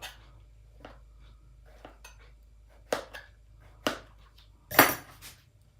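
Beef being cut very finely for tartare tartines: a handful of sharp, close knife clicks against a board with quiet gaps between them and a louder clatter near the end, no voices.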